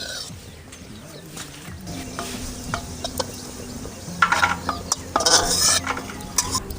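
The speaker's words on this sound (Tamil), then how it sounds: "இது நல்லா பொரிச்சு எடுத்துக்கணும். கலர் எடுக்கணும்." Millets fry in ghee in a pan with a low, soft sizzle, broken by louder scraping stirs against the metal toward the end.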